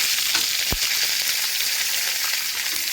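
Dried red chillies and curry leaves frying in hot oil for a tempering, a steady close hiss and sizzle throughout with a faint stir tap near the start, no speech.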